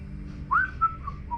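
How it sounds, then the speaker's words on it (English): A few short, bright whistle notes form a brief jaunty phrase, a sharp rising toot followed by two shorter notes, close and clear over a faint low hum. "I will take out my whistle. I will blow a jaunty tune"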